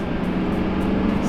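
Stock pickup truck accelerating hard under boost, a loud sustained engine roar with a steady droning tone heard from inside the cab, no talking.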